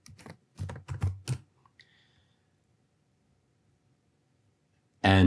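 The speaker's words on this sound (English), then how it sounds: "quickly remember how we can type out a large program listing" Keys on a computer keyboard clatter in a few quick bursts during the first second and a half, then go quiet, with a louder burst at the very end, typing out a program listing on a vintage CP/M terminal.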